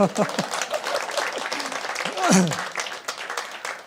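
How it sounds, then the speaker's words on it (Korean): A church congregation applauds during a Wednesday worship service, a dense patter of clapping with voices speaking over it and a brief swell near the middle. "우리 박수 한번 칠까요?"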